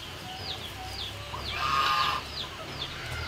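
A lone hen clucks in repeated short calls near a garden pet enclosure, with a louder burst midway over a steady low background hum.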